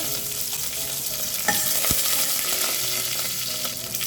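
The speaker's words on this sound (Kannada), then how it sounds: "ಸಾಸಿವೆ ಸಿಡಿಯೋಕ್ಕೆ ಸ್ಟಾರ್ಟ್ ಆದಮೇಲೆ ಇಂಗನ್ನು ಕೂಡ ಸೇರಿಸ್ಕೊಳ್ತಾ ಇದ್ದೀನಿ ಕರ್ಬೇವಿನ ಸೊಪ್ಪನ್ನು ಹಾಕ್ಕೊಳ್ತಾ ಇದ್ದೀನಿ" Mustard seeds, asafoetida and curry leaves fry in hot oil, giving a continuous sizzling hiss with a couple of sharp pops and crackles.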